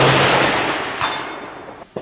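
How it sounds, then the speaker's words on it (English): A single loud, close report from a Swiss K31 rifle on an open range, fading into a long decaying rumble with a small knock near the end. "Let's take one more shot to confirm"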